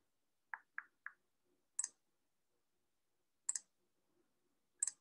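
A computer mouse clicks sharply, first in a quick run of three, then single or doubled clicks spaced a second or more apart, close and isolated against near silence.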